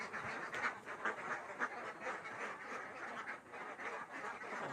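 A large flock of around 400 laying ducks quacks on a duck farm, a faint, continuous chorus of overlapping nasal calls heard from a short distance with no one talking.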